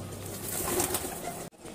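Pure black Madrasi pigeons cooing softly at a pigeon seller's in Moradabad, a short, faint, low murmuring coo nearby that stops abruptly at the end.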